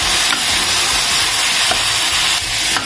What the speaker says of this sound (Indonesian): Baru kita masukkan tempe. Aduk cepat.